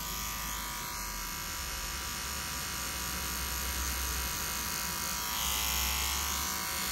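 Electric hair clipper set to zero, cutting hair for a skin fade, runs as a steady close-up buzz throughout without pauses or talk.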